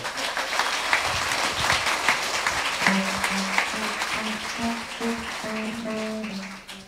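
Audience applause at a Dutch award ceremony, a sustained wash of clapping that fades near the end while a voice and faint musical tones rise beneath it.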